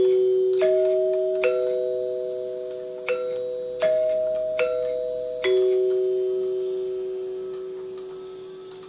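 A NuTone 8-note door chime mounted on a testing jig rings out a series of clear bell tones, each struck note sustaining and slowly decaying, six strikes over several seconds with no voices.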